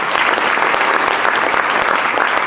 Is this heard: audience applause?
yes